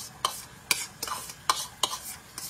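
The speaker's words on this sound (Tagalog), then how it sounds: "Okay, gisa-gisa natin yan." Corned beef being sautéed in a pan: a spatula scrapes and stirs in five or six sharp, evenly spaced strokes over a soft background sizzle, close and fairly loud, with no voice.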